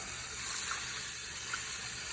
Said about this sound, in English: Just give it a quick rinse and see how it rinses out